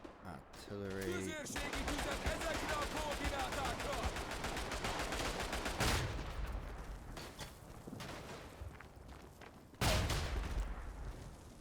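World War I battle in the game Tannenberg, with dense, continuous rifle fire crackling near and far and heavier artillery booms landing at two points, all blended into a loud, chaotic din.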